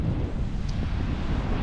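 Strong wind buffets the microphone on a beach at Rewa, Poland, a steady loud roar across the whole stretch with surf faintly mixed underneath.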